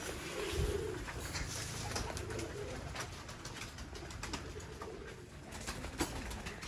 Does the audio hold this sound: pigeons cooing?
yes